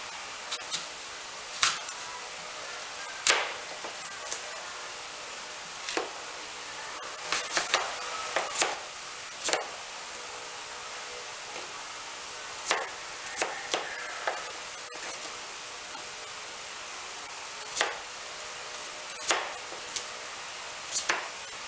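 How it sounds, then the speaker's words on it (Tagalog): An apple being sliced for a mimosa salad: sharp knife-on-board chops land irregularly, sometimes singly and sometimes in quick clusters, fairly close and clear with no voices. "Next naman natin hihiwain ang apple"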